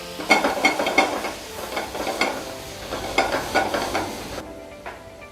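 Chopped tomatoes sizzle in a pan of onion gravy, the frying hiss rising in rhythmic bursts as the mix is stirred, loud and close, then settling to a fainter sizzle at the end.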